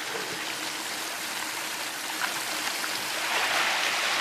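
Muddy water pouring through a gold-mining pre-wash as it breaks up thick clay, a steady close rushing and splashing wash that swells slightly louder toward the end, with no talking.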